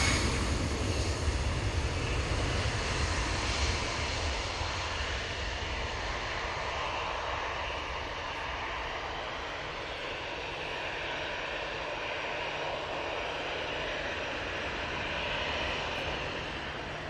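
A TUI aircraft at Manchester Airport sends a steady, broad jet roar that is slightly stronger at first, then holds an even, moderately distant rumble without any talking.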